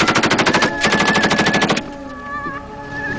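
Rapid machine gun fire in dense bursts, loud and close, with strong rhythmic repeated shots for the first second and a half before dropping to a quieter tail of ringing and distant noise.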